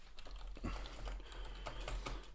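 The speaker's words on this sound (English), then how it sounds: "So I'm just typing in here in the live chat and YouTube" Fingers type on a computer keyboard in a quick irregular patter of soft taps over a steady low hum, with no talk.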